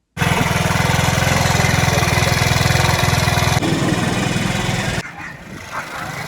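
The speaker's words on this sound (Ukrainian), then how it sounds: "Це, друзі, мопед чи скутер ще моєї двоюродної сестри." An old moped or scooter from before 2010 runs close by with a steady, loud buzzing putter; its tone shifts partway through, then drops off sharply near the end, leaving quieter rumble.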